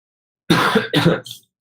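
Two quick, close coughs in succession, then a fainter trailing third, all after a moment of silence.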